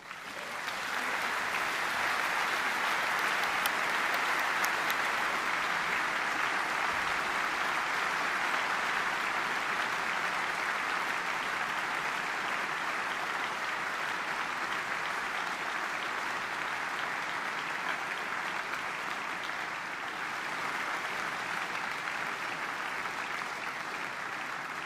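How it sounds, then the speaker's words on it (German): Sustained, loud applause from a concert audience at a brass band gala, greeting a brass soloist; dense steady clapping fills the whole stretch without letting up, with no voices over it. "ich bitte um einen großen Applaus"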